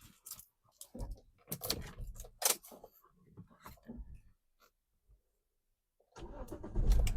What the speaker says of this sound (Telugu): నెక్స్ట్ వెహికల్ స్టార్ట్ చేద్దాం.